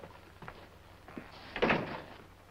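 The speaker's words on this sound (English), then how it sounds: "Close the door." A door closes in an old Lone Ranger television western episode, with a few soft knocks and shuffles before a louder thud of the door shutting near the end.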